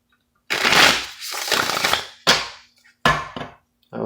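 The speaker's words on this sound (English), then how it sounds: "One more shuffle." Tarot cards are shuffled in several quick, crisp riffling bursts separated by short pauses, loud and close, with no talking.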